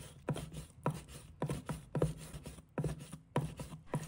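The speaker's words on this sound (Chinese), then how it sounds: "剁的过程中，咚咚咚的声响富有节奏" A kitchen knife chops pork belly into mince on a cutting board, striking in steady, evenly spaced thuds about every half second, close and clear with no talk.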